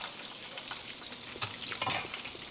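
Fish fries in a shallow layer of hot oil, a continuous close hiss and crackle that swells into a brief louder burst of spitting near the end.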